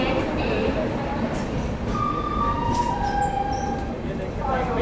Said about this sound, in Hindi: मिनट के हॉल्ट के बाद ट्रेन हमारी डिपार्ट कर चुकी है जालंधर सिटी रेलवे स्टेशन से।